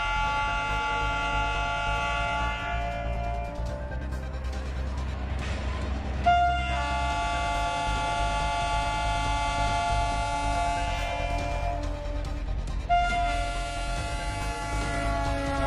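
The Gonda Express from Gorakhpur sounds long, steady horn blasts over a continuous low rumble of the running train, loud and close, with the horn tones breaking off and returning several times.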